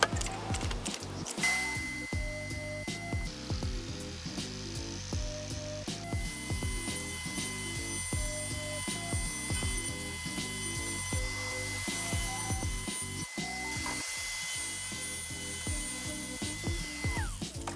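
An RTC angle grinder with a polishing pad smooths a notched cut edge, giving a steady whine with rhythmic scraping and clicking grit, close and fairly quiet, with no talk.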